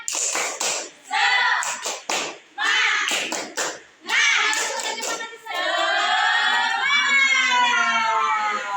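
A classroom group of students performs a tepuk semangat chant-and-clap routine during a microteaching ice-breaker, with bursts of rhythmic clapping mixed with loud chanting and shouting voices.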